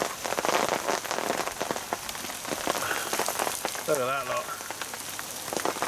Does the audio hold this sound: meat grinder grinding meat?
no